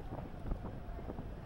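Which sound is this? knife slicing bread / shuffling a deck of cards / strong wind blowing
strong wind blowing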